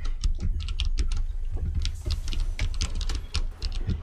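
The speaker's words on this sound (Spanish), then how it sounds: "estoy impactado viendo jugar a Carlitos Nader con el teclado" Fast, loud computer keyboard typing during gaming, a dense close-up clatter of key presses with an irregular rhythm and no pauses.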